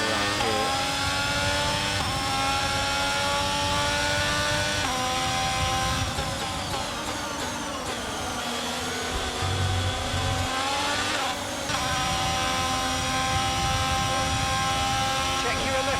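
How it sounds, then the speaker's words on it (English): A Formula 1 racing car engine screams continuously in the F1 22 video game during a Season 1 race in Australia, high revs rising and falling through gear shifts, loud and close throughout. "We've got a strong engine,"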